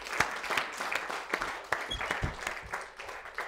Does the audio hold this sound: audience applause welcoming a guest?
yes